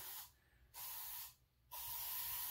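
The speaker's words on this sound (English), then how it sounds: "this one here, I'm going to spray a little bit heavier just so it'll get in the cracks and stuff" Two short hissing bursts of Deep Woods Off insect repellent aerosol sprayed onto a Dodge Viper headlight, followed by a longer, heavier spray, close and clear.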